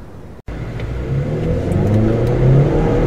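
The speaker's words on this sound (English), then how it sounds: "This engine has lots of pep." A 2014 Jeep Cherokee Limited 4x4 engine with 6-speed automatic revs up and accelerates steadily, its pitch climbing as the loud, close drone builds after a brief cutoff.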